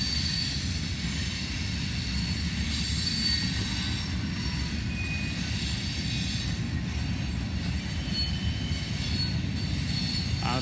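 A freight train rolls through Bellevue, its wheels squealing on the rails in a loud, continuous rumble close by, with a steady clatter that never lets up.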